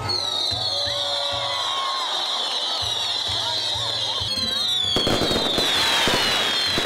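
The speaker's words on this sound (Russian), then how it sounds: "Пока громыхают раскаты салюта, люди загадывают желание." Fireworks burst at a Christmas tree lighting in Jaffa, Tel Aviv: a rapid series of booms and crackles over a cheering, whistling outdoor crowd, intensifying into dense crackling near the end.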